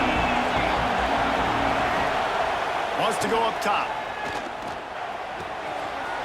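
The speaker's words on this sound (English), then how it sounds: "Here comes the noise from this big crowd in Happy Valley on 3rd down" A large stadium crowd roars steadily as a loud, continuous wash of noise on third down at Penn State's stadium in a college football video game, with an announcer's voice briefly heard over it.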